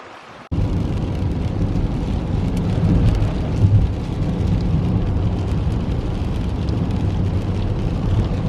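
Steady rain falling at Loch Lomond in Scotland, a dense, continuous hiss of drops on surfaces close by that starts abruptly and continues evenly, with no voices.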